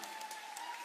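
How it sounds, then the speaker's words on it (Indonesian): Brief, faint applause from a concert audience at an unplugged show, acknowledging the backing singers; a soft, even wash of clapping without any clear individual claps. "Tepukan untuk"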